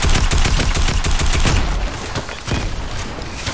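Rapid, loud bursts of SMG fire in the Fortnite video game, a dense close stream of shots for about two seconds, then scattered sharper shots and rattling action.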